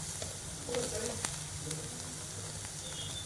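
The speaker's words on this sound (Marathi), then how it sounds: "अशा पद्धतीने आपण हे सर्व कांदा, मिरची, लसूण, आलं, कढीपत्ता, मोहरी हे सर्व व्यवस्थित परतून घ्यायचं आहे" Onion, green chili, garlic, ginger, curry leaves and mustard seeds sauté in hot oil with a soft, steady sizzle, faint crackles and occasional light stirring, fairly quiet and close.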